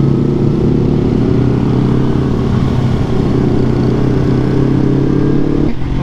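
A Yamaha MT25 250cc motorcycle is ridden at a steady pace, its engine droning loudly and constantly up close with a low rumbling hum and wind noise, and no one speaking.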